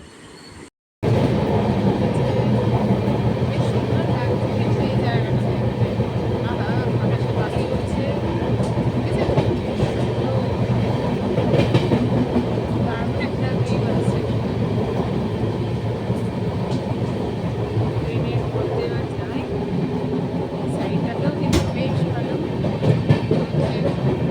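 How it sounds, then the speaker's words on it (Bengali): A train runs steadily on rails on a rainy morning trip to Sambalpur, a loud continuous rumble with wheel clatter that holds level throughout after a brief quiet start. "ট্রেন চলছিল নির্ধারিত সময়ের থেকে বেশ কিছুটা লেটে,"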